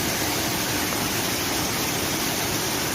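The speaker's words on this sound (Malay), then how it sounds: "Dapat air terjun lagi. Cuma di seberang sungai." A waterfall on the far side of a river gives a steady, dense roar of falling water, constant and unbroken throughout, with no voices.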